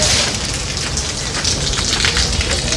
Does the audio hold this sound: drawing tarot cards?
no